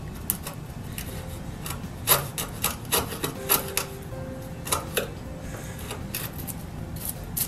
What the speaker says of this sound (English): when I'm sharpening this big crosscut saw